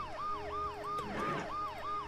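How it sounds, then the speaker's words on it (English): Ambulance siren in the video game Dead Synchronicity wails in repeated rising-and-falling sweeps, steady and fairly loud, with a faint rumble and some clatter underneath and no voices. "The noise the ambulance makes will cover the sound of the glass breaking."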